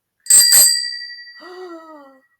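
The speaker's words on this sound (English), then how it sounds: "as the doorbell rang" A bright two-tone chime rings twice in quick succession, then its tones linger and fade out, clear and close with nothing else around.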